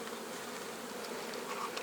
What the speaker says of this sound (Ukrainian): Сонце вже котиться до обрію, нагріває стінки вулика, бджолки відпочивають, гріються.